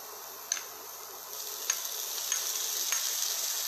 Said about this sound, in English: Our onions are sauteed.